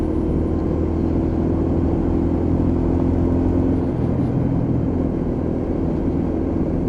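A Lexmoto LXR motorcycle with a water-cooled engine runs steadily, a loud, close, even hum with a deep droning rumble and no voices over it.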